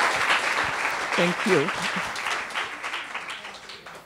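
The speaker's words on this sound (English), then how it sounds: "may I please ask you all to welcome her with a warm round of applause" Audience applause welcoming a speaker to a lecture on women in the Gulf, steady broadband clapping that carries through the whole stretch, with a brief thank-you spoken over it partway through.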